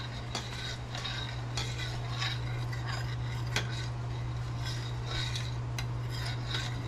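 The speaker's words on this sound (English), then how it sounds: "So I stir this really good." Homemade elderberry juice stirred in a pot, a spoon clinking and scraping against the metal in an irregular rhythm over a steady low electrical hum, close and fairly quiet with nobody speaking.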